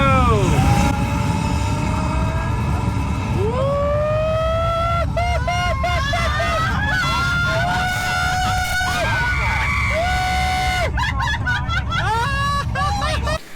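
A simulated rocket launch on a Disney World ride: a loud, continuous roar with whining tones that climb and hold, while a crowd murmurs and voices speak underneath throughout.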